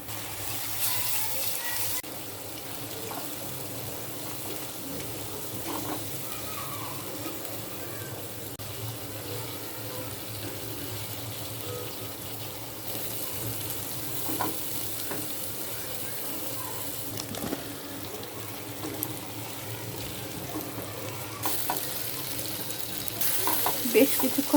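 Beef liver frying with dry spices, salt and garam masala for koshano, a continuous moderate sizzle with occasional stirring scrapes and clinks, close by, with no talking.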